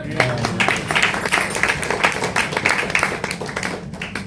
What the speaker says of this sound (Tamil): ஒரு கைத்தட்டு கொடுக்கலாமே?